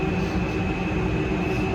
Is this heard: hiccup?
no